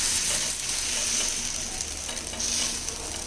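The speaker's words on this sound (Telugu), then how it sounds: "ఇప్పుడు వేద్దామండి, ఎలా వస్తుందో చూద్దాం దోశ" Dosa batter sizzling on a hot pan on a stove, a steady close crackling hiss with faint scraping, no voices.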